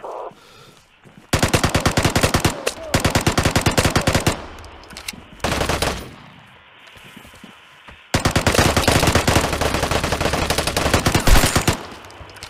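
Gunfire in the video game Vigor: long bursts of rapid automatic fire, loud and close, broken by short pauses and a few single shots, with no talk.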